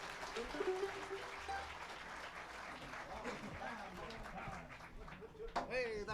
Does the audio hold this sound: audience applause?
yes